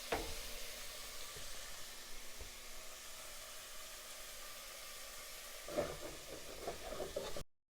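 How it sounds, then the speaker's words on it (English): Vegetables sauté in a pan for butternut squash and spinach stuffed shells, giving a steady, soft sizzle with a few stirring scrapes and knocks toward the end. "we're going to want to stir this together for about 2 to 3 minutes"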